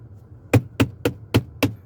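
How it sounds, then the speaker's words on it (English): Five loud, evenly spaced knocks hit a jail cell door in a detention assessment center, each a sharp hollow bang about a quarter second apart over a low background hum. "hitting his door"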